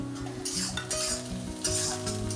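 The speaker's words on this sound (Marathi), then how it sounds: "मिरची चांगली भाजून घ्यायची कांदा आणि मिरची बघा अशी भाजून घ्यायची" Onion and green chili frying in a pan, a close, bright sizzle broken by the scrape and clink of stirring, with musical tones running beneath.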